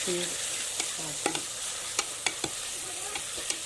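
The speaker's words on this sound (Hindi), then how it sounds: "तेज़ आंच पे इसे भूनते रहें" Minced meat with potatoes fries over high flame in a pan, with a loud, continuous sizzle and occasional sharp spatula scrapes.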